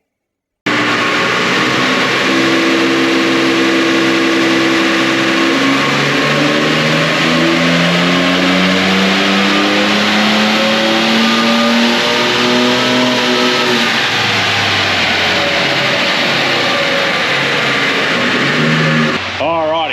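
Engine of a 2024 Ford Ranger Raptor with upgraded intercooler and airbox, revving hard and steadily on a dyno, one long loud rising pull lasting nearly twenty seconds before cutting off.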